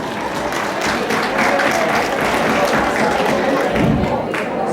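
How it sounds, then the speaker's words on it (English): A crowd at a Chutney Glow fashion show event applauds steadily for nearly five seconds, with dense clapping and some cheering filling the room at an even, loud level. "Give them a round of applause, please."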